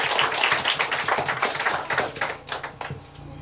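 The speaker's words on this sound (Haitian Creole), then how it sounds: "On applaudit le Seigneur encore une fois." A church congregation applauding, a dense burst of brisk clapping that thins out toward the end, close and fairly loud.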